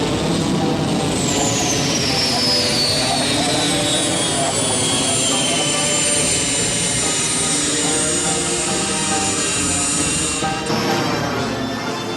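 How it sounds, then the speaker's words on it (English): A hybrid airplane-helicopter aircraft roars loudly and continuously overhead, with a whining turbine tone sliding downward as it passes, the engine noise steady throughout. "Hybrids that are combinations of airplane and helicopter."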